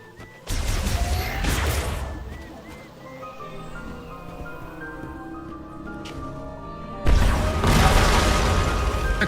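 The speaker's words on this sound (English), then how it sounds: "Explosion." A loud, booming explosion in the video game Metroid Prime 4 bursts out, then a noisy, crackling rumble holds for a while before a second blast erupts near the end. No one talks.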